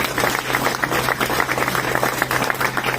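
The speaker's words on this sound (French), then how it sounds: "Betty et Corinne, mais vous pouvez les applaudir" An audience at a company's 20th-anniversary celebration applauds, a dense, steady crowd clapping held at even loudness throughout, with a low constant hum underneath.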